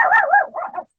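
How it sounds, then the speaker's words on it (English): A pet dog gives a quick run of yipping, whiny barks, three or four close, fairly loud calls in about a second before falling silent. "sorry, that's my dog."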